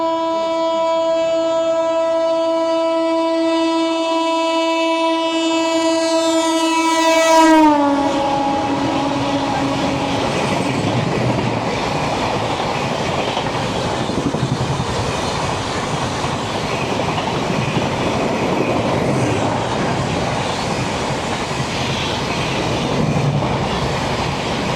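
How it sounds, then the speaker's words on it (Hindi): Magadh Express train passing through a station: a loud sustained multi-tone horn blares for several seconds, then cuts off into continuous rumbling wheel and carriage noise roaring past nearby. "ये गई मगध एक्सप्रेस"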